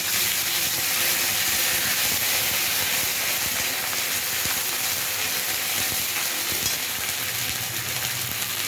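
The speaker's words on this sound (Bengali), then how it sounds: "এবার আদা বাটাটা দিয়ে দেবো।" Ginger paste sizzles steadily in a hot pan, a loud continuous frying hiss that runs throughout with faint stirring scrapes underneath and no voices.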